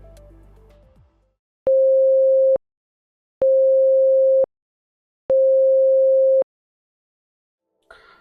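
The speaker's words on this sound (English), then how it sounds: "Let's set operator 4 to create a sine wave at full amplitude with no modulation." A steady pure sine-wave synthesizer tone sounds three times, each about a second long with clean starts and stops and short silences between, loud and close.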